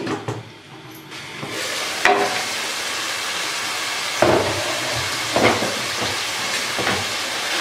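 Mutton karahi with onions cooking in a covered pan, a steady close hiss and sizzle of frying with a few louder crackling bursts, no voices.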